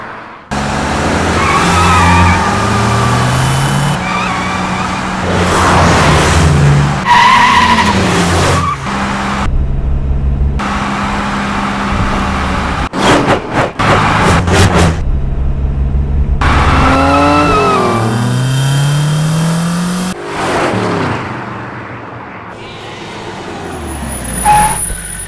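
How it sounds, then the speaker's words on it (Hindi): A car on a road brakes hard and skids, with loud tyre squeals and engine roar, then comes to a stop. The squeals break off around the twenty-second mark, and a quiet hum follows. "यहाँ पर गाड़ी क्यों रोक दी?"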